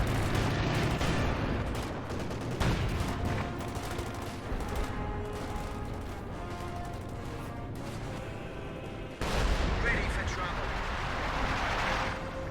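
Artillery barrage in Company of Heroes 2, with a continuous crackle of gunfire, distant shell bursts and a heavier blast near the end, under a commentator's talk.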